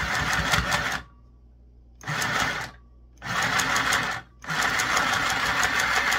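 A small electric sewing machine stitches fabric in four rapid whirring bursts separated by short pauses, close and clear, each run a fast mechanical rattle.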